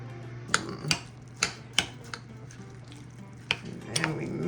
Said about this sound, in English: And then we mix everything together